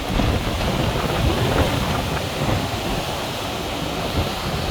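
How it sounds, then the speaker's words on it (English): Strong wind and rough seas during a typhoon make a dense, steady roar of wind buffeting and crashing waves with no break, loud and close, and no voices. "It is some rough seas out here right now."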